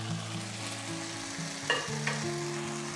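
Chicken sizzles and fries in a pan seasoned with red and black pepper, a steady hiss broken by a couple of sharp stirring scrapes against the pan, close and with no talking.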